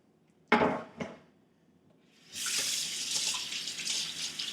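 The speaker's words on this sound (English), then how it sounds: "I'll rinse my hand after handling those because you'll get purple everywhere if you don't." Two sharp knocks come first, then a tap starts running steadily for the last two seconds as hands are rinsed beneath it. The water is close and fairly loud.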